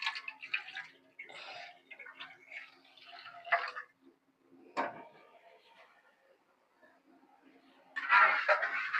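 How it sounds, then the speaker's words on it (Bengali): Water poured into a pan of spiced sea fish bhuna, a short rushing splash near the end after quieter kitchen clatter and small clicks. "আমি মাছগুলোর ভিতরে পানি দিয়ে দিলাম"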